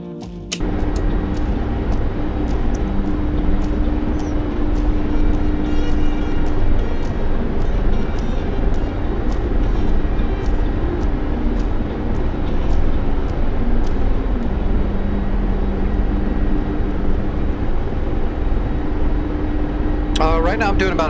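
A Chinook helicopter in a video game flies steadily, its rotor drone loud and continuous with a low rumble and faint rhythmic thumping, dropping away briefly at the very start and shifting near the end.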